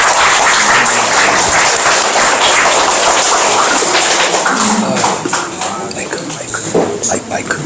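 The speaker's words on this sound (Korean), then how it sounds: "박수 한번 보내주세요" An audience at a Korean history lecture and book event gives a round of applause, dense clapping that thins after about five seconds as voices carry on over it.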